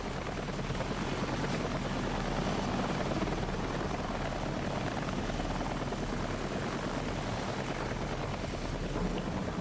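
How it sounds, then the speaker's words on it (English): A helicopter in the video game Daymare: 1998 thrums with a steady, loud rotor and engine drone that holds unbroken for the whole stretch, with no voices over it. "Is that helicopter still here?"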